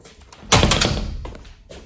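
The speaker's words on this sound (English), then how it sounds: "I'm going to close my door because I have their team flags on my doors." A middle school classroom door swung shut, a brisk thudding close with a rattling latch and a brief follow-up knock, near and fairly loud.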